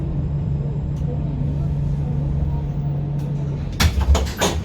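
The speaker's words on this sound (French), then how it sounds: "Doors will open on the left-hand side in the direction of travel." A low tram hum and rumble in Lyon, then a quick mechanical clunk and hiss of doors sliding open near the end.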